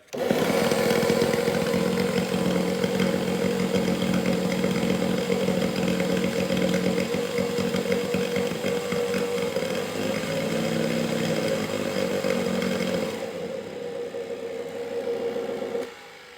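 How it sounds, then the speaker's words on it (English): A failing shop vacuum drones loudly and steadily with a rough, strained motor tone, then drops in pitch and sputters near the end before cutting off. "the old vacuum, she's starting to not sound so good"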